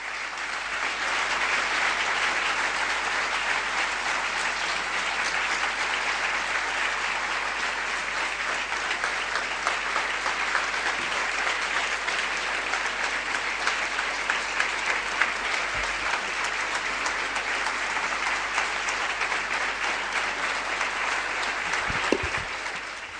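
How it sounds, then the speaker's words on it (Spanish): A congregation at a Catholic church gathering gives sustained applause after a religious testimony, with a long, even roar of clapping that stays at a steady level throughout. "Estos aplausos son para Virgen María y para Dios, no para mí."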